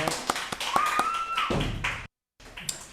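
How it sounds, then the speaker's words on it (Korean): Congregation at a Sunday church worship service clapping together in thanks, a dense rapid patter of hands with a brief tone sounding over it, then a sudden cut to silence before the clapping resumes faintly. "하나님께 감사의 박수 올려드리겠습니다."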